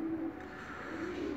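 Soft, steady cooing of Sabuni Posta pigeons close by, a low warbling murmur that continues without pause and with no talking.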